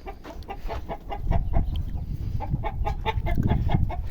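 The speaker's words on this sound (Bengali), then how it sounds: "সাথে আছে মুরগি, যেগুলো প্রতিনিয়তই ডিম দিচ্ছে।" Chickens cluck repeatedly in short bursts, several birds close by, with a steady low farmyard rumble underneath.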